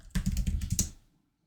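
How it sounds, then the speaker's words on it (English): A quick burst of keystrokes on a computer keyboard, about a dozen close, crisp clicks in under a second, then silence. "I'm going to type verses in all caps"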